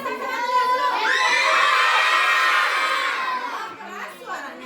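A group of schoolchildren at an elementary school shout together in one loud, sustained burst lasting a few seconds before trailing off.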